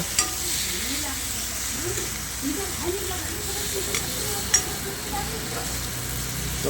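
Fish frying and being stirred in a pan, with a steady low sizzle and scraping stir strokes, a few sharper clinks, close and moderately loud; a voice talks faintly underneath.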